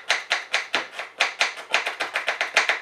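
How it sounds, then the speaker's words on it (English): A knife chops a digestive biscuit finely on a board, a quick run of about fifteen crisp, sharp cuts in steady rhythm, close and clear with no talking. "cut it in half, and I'm just going to chop it like"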